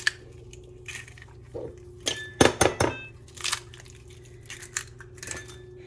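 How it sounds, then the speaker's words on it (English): Two eggs cracked into a salmon burger mixture, heard as a few sharp taps and clinks against a bowl clustered in the middle, with lighter clatter around them over a low steady hum. "I'm going to crack in 2 eggs."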